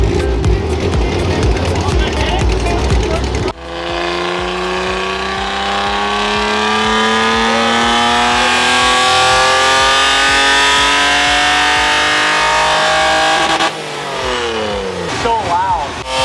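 A race car in a burnout competition revs hard and holds a loud, steady engine roar with rising pitch for about ten seconds, bracketed by rougher idling and crowd noise, with voices nearby.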